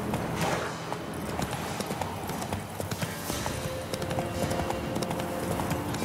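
Geralt's horse Roach galloping in The Witcher 3: Wild Hunt, rapid rhythmic hoofbeats pounding steadily and close throughout, with faint ambient game sounds behind.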